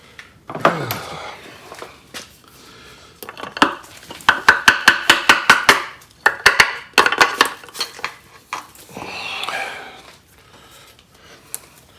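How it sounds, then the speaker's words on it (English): Rapid metallic hammer strikes driving a piston out of a rusted-solid 413 engine from a 1967 Plymouth Belvedere, bursts of close, loud ringing blows in quick runs with short pauses between them. "So I'm putting rubber hose on there to protect the crank journal before we drive that piston out."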